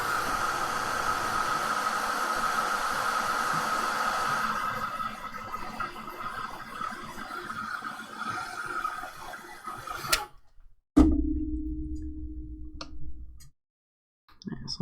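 A heat tool blows hot air to dry stamped ink, a steady close whooshing hiss with a faint whine that runs for about ten seconds, then cuts off abruptly into a brief low hum and quiet.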